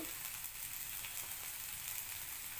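Ginger paste and turmeric fry in a pan with a faint, even sizzling hiss that runs unbroken throughout, with no talking.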